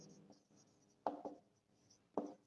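Marker strokes on a classroom board during a maths lesson, a few short scratchy bursts spaced apart in a quiet room.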